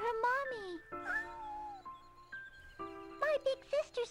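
A kitten in the video game Shenmue meows in a string of high, wavering cries, several in a row with short gaps, clear and close against a quiet background.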